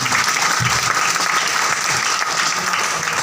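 Seminar audience at an award and recognition event claps loudly and continuously, dense applause filling the whole stretch with no pauses.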